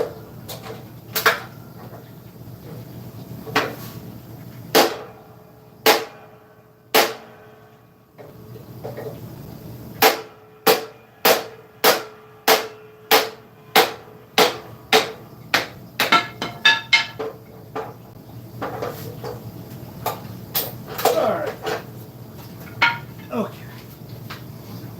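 Sharp metal hammer strikes drive a tool head onto its wooden handle, close and loud. They come as scattered single blows and then a fast regular run of about a dozen hits, with a few quieter knocks between them.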